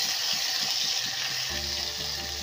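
Ginger and garlic fry in hot oil with toasted cumin seeds, a steady bright sizzle hissing throughout with a brief low clatter midway as the pan is stirred.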